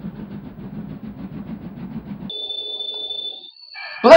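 Model tank engine James pulling into a station platform, a low rumbling chug giving way to sustained high-pitched squealing tones that hold steady for over a second, ending in a loud burst.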